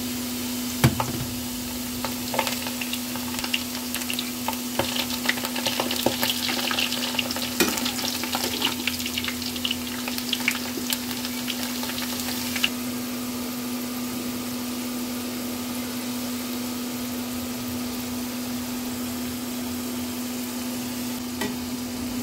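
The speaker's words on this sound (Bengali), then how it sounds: "এখন আমি আবার একবার ভাজবো, আর এইবার একটু ভালোভাবে ভাজবো" French fries in a second, final round of deep frying, the hot oil giving a steady, close sizzle and bubbling that runs unbroken throughout over a constant low electrical hum, with a few clinks of stirring early on.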